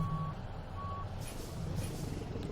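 A Peterbilt 377 in American Truck Simulator backs up with steady, evenly spaced reversing beeps sounding over a low, constant diesel engine rumble and some faint hiss, with no talking.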